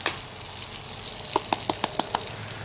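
Zucchini sizzles steadily in a camp cooking pan, with a run of sharp, evenly spaced scraping taps from a utensil stirring near the end.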